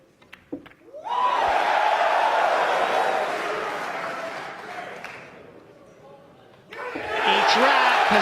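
Crowd at the 2014 Mosconi Cup 9-ball match between USA and Europe, cheering and applauding a pool shot: a loud roar swells, fades, then surges again, with commentators talking over it.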